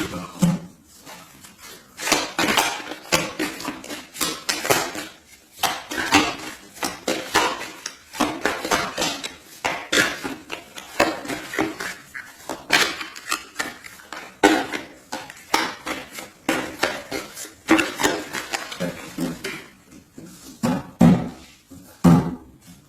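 A deck of tarot cards is cut and shuffled close by, giving a long run of crisp slaps, riffles and taps in an irregular rhythm, with no talking.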